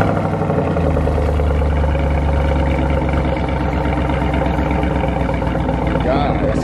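A Pontiac G8 GT idling steadily after a cold start, a continuous low, even engine drone close by, with talk over it.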